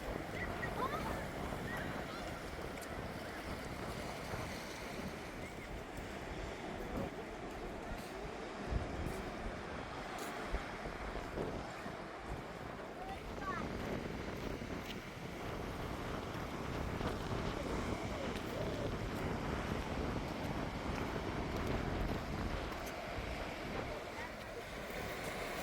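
Ocean surf breaking along the shore at Port Elliot, Australia, heard as a steady broadband wash with wind buffeting the microphone, fairly loud and continuous throughout.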